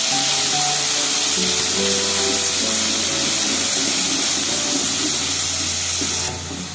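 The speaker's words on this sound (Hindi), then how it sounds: "ऑयल हमारा गर्म हो गया। इसमें हम डालेंगे अदरक लहसुन का पेस्ट। इसको हम अच्छे से भूनेंगे।" Ginger garlic paste sizzles in hot oil with a loud, steady, hissing roar that holds evenly throughout and eases slightly at the end.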